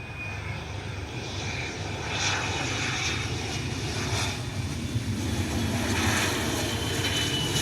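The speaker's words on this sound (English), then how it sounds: "Bombardier Challenger 350 inbound from Buffalo, New York." A Bombardier Challenger 350 jet arriving on approach makes a steady, broad engine roar at moderate distance that holds throughout, with no talk.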